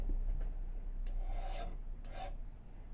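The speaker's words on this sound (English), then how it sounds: "deburr on the edges, just to make sure you don't get it caught on anything" A metal file deburrs the edges of a square during a tool restoration, making a few short, quiet rasping strokes close by, with no talking.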